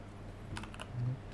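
Quick light keystrokes on a computer keyboard entering Linux terminal commands, a short cluster of soft clicks close by in a quiet room.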